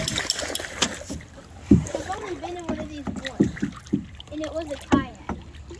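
A canoe moves through swamp water in the woods, its paddle strokes producing close splashes and sloshes while people talk over them and a dog may be aboard.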